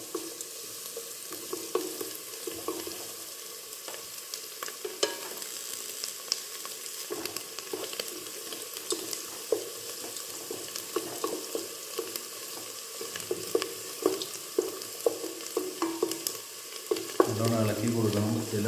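Ingredients for chicken majboos frying in a pot, stirred steadily: a crackling sizzle with frequent spatula scrapes, close and moderately loud, building toward the end, with no one speaking.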